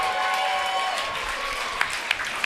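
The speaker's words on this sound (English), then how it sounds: "Round of applause." Crowd applause and cheering after a knockout at a robot combat event, a steady wash of clapping with a few sharp claps standing out toward the end.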